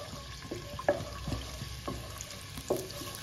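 Chopped garlic sautéing in about half a cup of ghee in a pan for chicken macaroni, a faint steady sizzle with soft stirring scrapes at intervals, heard close and quiet with no talking.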